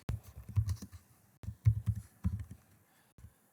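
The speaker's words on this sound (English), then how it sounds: "type in bowl gouge" Search terms typed on a computer keyboard, a few bursts of soft close key taps separated by short pauses, quiet and with no talking.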